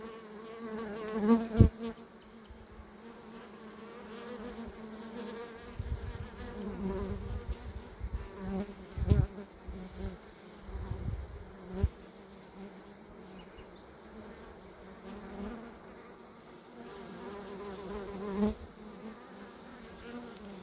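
A large swarm of honey bees leaving the hive hums in a steady, dense buzz throughout, with individual bees passing close and loud now and then.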